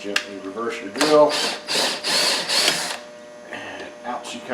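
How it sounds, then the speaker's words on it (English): A power drill runs in reverse in short whirring bursts, backing its bit out of a freshly drilled hole in the door of a 1996 Mercury Grand Marquis, with mechanical ratcheting between pulses and a voice nearby. "Gently reverse your drill"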